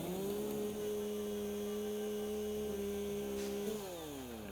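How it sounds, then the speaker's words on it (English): A chainsaw in the Satisfactory video game runs as a steady, loud droning motor for several seconds while cutting trees, then its pitch slides down as it winds off near the end. "Let me get my chainsaw."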